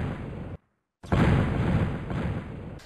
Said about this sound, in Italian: sentiamo il rumore che è prodotto il proiettile partendo dalla nostra canna